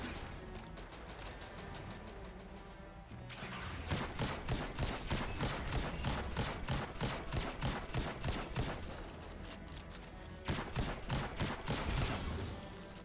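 Heavy Gjallarhorn rocket launcher fire in a Destiny 2 Grandmaster Nightfall, loud repeated blasts over dense, pulsing combat noise and music, two strong bursts standing out.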